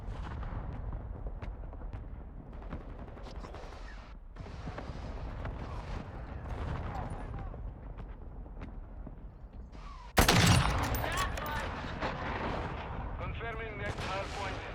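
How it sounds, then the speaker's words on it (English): Mortar strike explosions in the video game Call of Duty Modern Warfare 2, distant rumbling blasts that give way to a sudden loud close impact partway through, with game voice callouts over the battle. "Hostile mortar strike in the area."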